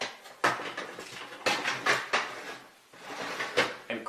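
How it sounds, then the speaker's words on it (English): A metal oven rack slides back into a home oven after blueberries and meat are spread on foil to dry, giving several loud clattering, scraping metallic bangs in close succession. "Place the rack back inside"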